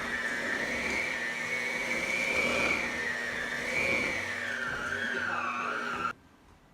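An electric mixer whirs steadily through cupcake batter in a bowl, its pitch wavering as it works, loud and close, then cuts off abruptly near the end.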